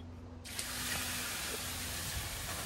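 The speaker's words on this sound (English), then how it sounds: "Let's get more steam going here. More steam." Steam hissing in a forest sauna, a sudden broad rushing hiss that starts after a brief quiet moment and holds steady and loud to the end, with no talking.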